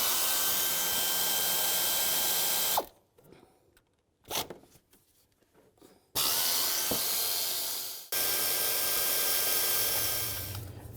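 Pneumatic air tool loosening intake manifold bolts on a 2000-06 GMC Yukon, loud sustained bursts of whirring, one before a short break and two more after, with clanks and rattles of handling in the quieter gap.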